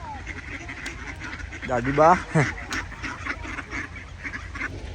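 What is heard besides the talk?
ducks quacking while being fed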